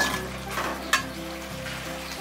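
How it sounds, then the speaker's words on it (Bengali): Masala spice paste fries in oil in a pan with a close, steady sizzle and bubbling spatter. A low hum runs underneath and there is one brief sharp knock, with no voices. "আমাদের মশলাটা কিন্তু কষানো হয়ে গিয়েছে, দেখুন তেল কিন্তু উপরে উঠে আসছে"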